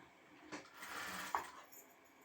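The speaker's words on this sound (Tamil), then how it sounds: "தையல் போடுறேன்." Sewing machine stitching a blouse front piece, a faint mechanical whir in short runs with a small sharp click near the end, heard alone.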